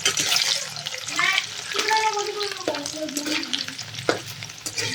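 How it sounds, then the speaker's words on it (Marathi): Cubes of paneer frying in hot oil for shahi paneer, a close, bright crackling sizzle with spattering pops, while someone talks over it. "आता मी त्याच्यात पनीर टाकून घेते आणि आपण पनीर आहे ते छान असं तळून घेणार आहोत"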